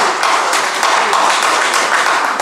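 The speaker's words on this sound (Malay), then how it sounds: "Sekali lagi tepukan yang gemuruh untuk King Blaster." Audience at a Malaysian product launch event for King Blaster claps loudly and continuously, a dense close burst of applause with no pauses.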